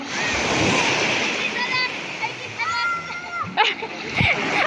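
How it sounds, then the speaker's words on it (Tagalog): Beach surf on the Batangas coast splashes and crashes continuously, loud and close, with a couple of heavier breaking surges near the end; children's voices and chatter carry over the water throughout. "Ala, grabe yung alon."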